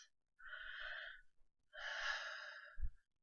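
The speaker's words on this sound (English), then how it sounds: "And take a deep breath." A person takes a deep, slow breath, drawing a long airy inhale and then releasing a second long breath, close and soft, with a faint low thump at the end.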